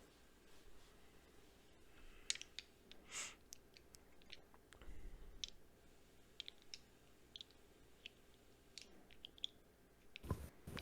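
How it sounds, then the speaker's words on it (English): Dice being idly fiddled with off to the side during a tabletop Dungeons & Dragons session: faint, sparse clicks and small clacks scattered at an irregular pace, quiet and close, with soft rustling between them. "I can hear the clicking in the background."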